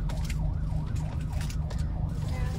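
An ambulance siren wails in repeated rising and falling sweeps on a road between Morong and Baras, Rizal, heard from inside a moving vehicle over a loud, constant engine and road rumble.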